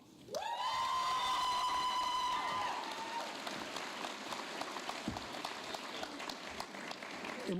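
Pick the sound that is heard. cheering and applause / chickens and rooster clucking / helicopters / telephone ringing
cheering and applause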